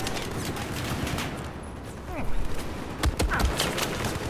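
Gunfire in the video game Battlefield 4: a dense, steady fusillade of shots fills the background, with a few louder cracks near the end. No one speaks during it.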